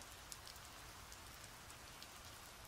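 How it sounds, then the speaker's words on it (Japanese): Sudden steady rain falling as a sound effect in an audio drama, a dense continuous hiss of drops with faint pattering on surfaces, fairly quiet and even throughout with no voices. "突如降り出した雨に"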